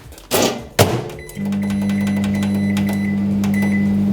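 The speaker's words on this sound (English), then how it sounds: "2 minutes in the microwave." A couple of sharp clunks, like a microwave door shutting, then the microwave starts up heating rice with a steady, loud electric hum that continues to the end.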